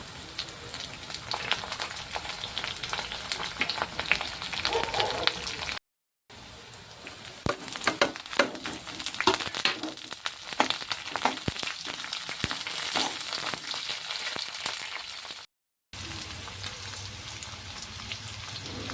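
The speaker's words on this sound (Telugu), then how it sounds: "దాంట్లో కొన్ని ఆనియన్స్ వేసుకొని మంచిగా ఫ్రై చేసుకోవాలి" Onions, green chillies and curry leaves fry in a pan with a steady, dense crackling sizzle that runs nearly throughout, close and fairly loud, broken by two brief silent cuts.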